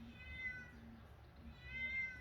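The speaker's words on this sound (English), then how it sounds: "And there's my kitty." A cat meows twice, drawn-out and faint, over a low background hum.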